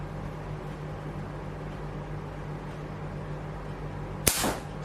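A single slingshot shot toward a target: after a quiet stretch of low background hum, one sharp snapping crack rings out close by near the end, followed by a brief noisy decay.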